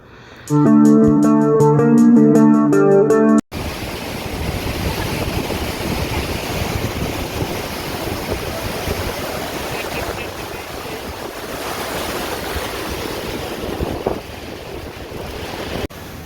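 Water roaring at Niagara Falls, a loud, continuous broadband rush heard close up, preceded by a short burst of music.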